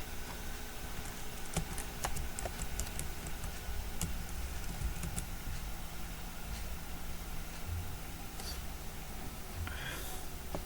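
Keyboard typing in a computer networking lab session, sparse clicking keystrokes scattered across a steady low background hum, with no one speaking.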